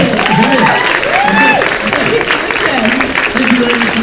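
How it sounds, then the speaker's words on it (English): Applause at a Comic-Con Q&A panel greets actor Peter Davison, with steady clapping and crowd cheering mixed under loud voices and whoops from the audience. "Can we have a round of applause, Peter Davison,"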